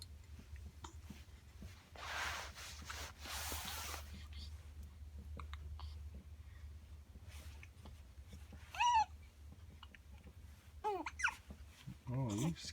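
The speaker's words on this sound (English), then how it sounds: "Oh, you squeaking and clicking?" A happy infant squeaking and clicking between hiccups, with short high chirps and small clicks scattered over a quiet room, near and soft, with faint adult murmuring in places.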